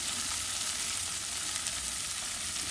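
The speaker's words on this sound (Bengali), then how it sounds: "এখন আমি টমেটোগুলা দিচ্ছি এখানে" Tomatoes going into a frying pan of softened onions, with a steady, dense sizzle of hot oil holding constant and close throughout.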